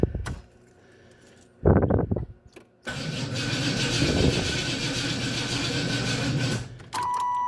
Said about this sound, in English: Let's just see if it chokes up a little and tries to sputter.